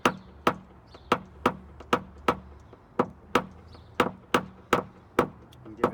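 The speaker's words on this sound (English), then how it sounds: "Give it some nice severe taps." A paintless dent repair tool taps the crest of a dent on a Jeep Renegade body panel, giving about a dozen sharp, close knocks in a fairly even rhythm, with no talking.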